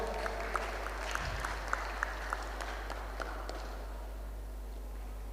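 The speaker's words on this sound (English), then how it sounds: "So a big round of applause for Pacau and Ibunelsi leadership for supporting this event also" Applause at a varsity boys volleyball tournament closing ceremony, a steady round of clapping from a modest crowd in a gym with a low hum beneath, thinning out over about five seconds.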